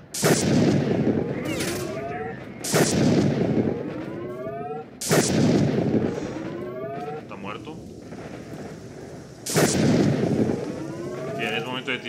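Gunfire in the video game S.T.A.L.K.E.R. comes as four loud, booming bursts, each with a ringing, echoing tail, separated by short gaps.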